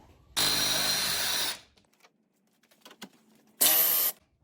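A Ryobi power tool whirs loudly as it backs fasteners out of a car grille shroud on a 2016-2018 Mercedes GLE 350, two steady bursts of about a second each, close up, with faint handling clicks between.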